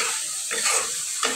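Turmeric and chili powder sizzle in a hot frying pan, a close, steady hiss with brief swells as the spices are stirred.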